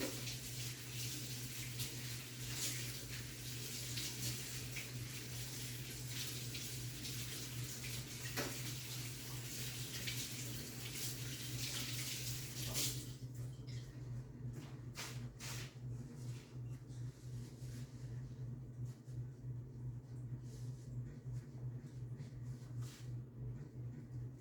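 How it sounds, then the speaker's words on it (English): Tap water runs steadily into a sink during hand rinsing, a continuous broad hiss lasting about thirteen seconds before it cuts off, leaving a low steady hum and a few faint handling clicks. "Let me rinse my hands again."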